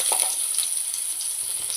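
Onions sizzle in hot oil with cinnamon, cloves and cardamom while mutton chukka is being cooked, making a steady, hissing fry with a few faint stirring taps.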